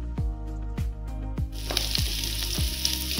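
Sliced onion, green chillies and curry leaves sauté in oil with a rising sizzle. Regular low knocks and thuds of a spoon or pan come through, and the hiss grows louder halfway through.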